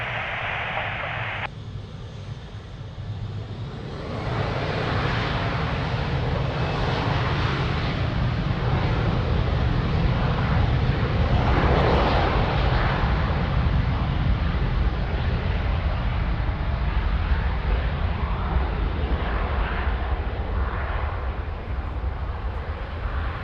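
A jet airliner on its takeoff roll from runway 02 at Lisbon Airport, a steady, loud broadband roar that swells after a few seconds and holds, heard from nearby and alone without talk.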